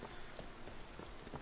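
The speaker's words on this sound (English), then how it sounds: "the rain is really, really good in Equinoctium, in my opinion." Steady rain hiss with scattered droplet patter in Skyrim with the Ultimate Skyrim mod, a dense continuous wash of sound heard alone.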